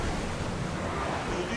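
A sailing ship from Assassin's Creed Odyssey cuts through the sea at full speed, a constant loud wash of waves and rushing wind filling the whole moment without a break.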